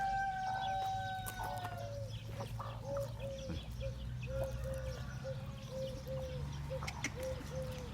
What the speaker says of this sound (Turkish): Burada da horoz var.